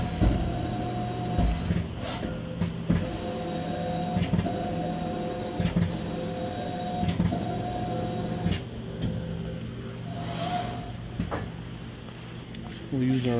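A PVA Delta 6 selective coating machine runs steadily on thin material at high speed, giving a continuous mechanical hum with occasional jerky clicks at the corners.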